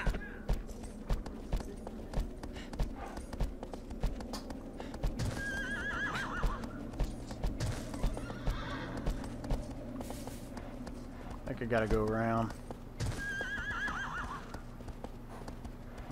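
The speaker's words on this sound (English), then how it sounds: "My poor horse is having a fucking hard time, isn't it?" In Shadow of the Colossus, a horse's hooves beat in a steady gallop while it neighs several times, one long, loud whinny standing out in the middle, and someone briefly talks over the action.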